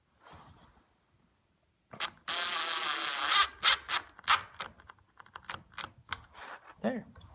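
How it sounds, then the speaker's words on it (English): A screw for a Rockler desk top fastener is driven into a wooden bench top: a sustained whirring burst is followed by a string of close, sharp clicking and ratcheting sounds, with a faint voice briefly at the start. "We just got to get our screw in."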